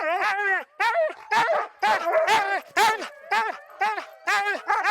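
Sled dogs in a six-dog team bark and yelp excitedly before a winter run, loud close bursts of overlapping barks and whines in an insistent, uneven rhythm.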